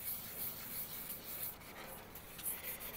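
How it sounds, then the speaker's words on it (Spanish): Steady rubbing rasp of sandpaper worked by hand over a Sony PlayStation plastic casing, continuous back-and-forth strokes, close and fairly quiet with no voices. "Y vamos a ir lijando."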